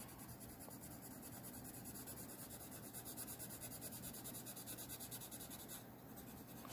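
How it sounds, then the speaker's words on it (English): Coloured pencil shades lightly on paper with a soft, continuous scratchy rubbing of quick back-and-forth strokes, faint and close. "we're being nice and light with the pencil"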